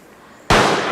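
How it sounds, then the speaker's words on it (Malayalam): A single sharp firecracker blast goes off loud and close after a quiet lead-in, then sustains a wide, roaring decay; it is set off by villagers in Idukki to drive wild elephants away from a settlement. "ആളുകൾ പടക്കം പൊട്ടിച്ച്"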